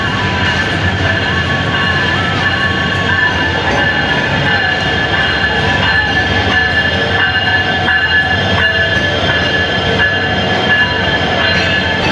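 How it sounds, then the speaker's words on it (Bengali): A train pulls into Kamalapur railway station in Bangladesh: a loud, steady rumble of rolling railcars with a high metallic ring from the wheels, continuous for the whole stretch with no voices. "তো দেখতে দেখতে আমাদের ট্রেন চলে আসছে"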